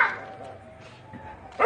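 A dog gives a couple of short yipping barks close by, with a faint whining tone between them.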